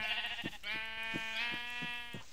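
A sheep in a video game bleats several times in a row, a wavering, nasal call that is clear and close with no talking over it.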